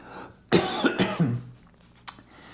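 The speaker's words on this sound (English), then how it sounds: "sorry, I have to cough." A single sharp cough, close and loud, followed by a couple of smaller throat-clearing coughs that trail off, then a brief click.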